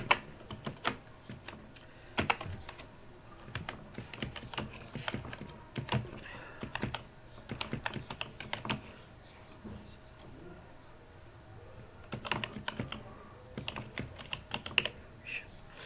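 Keys clack on a computer keyboard while text is entered in MS Word, irregular bursts of close, crisp taps separated by short pauses, with no talking over them.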